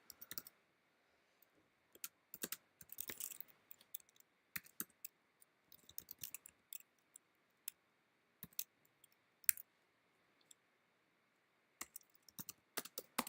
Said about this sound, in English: just going to type this out